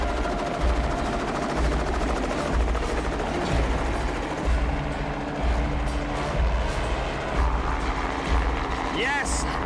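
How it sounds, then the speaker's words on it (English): A helicopter flies back to pick up a co-pilot beside a lake during a musky fishing trip in Canada, its rotor chop throbbing at low pitch throughout, moderately close, with people talking over it and a brief sharp chirp near the end. "the helicopter needs to come back for the co-pilot"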